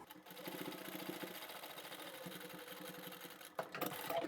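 A sewing machine stitching a tea towel, a faint steady mechanical whirr with rapid repeating needle beats that pause briefly near the end before resuming.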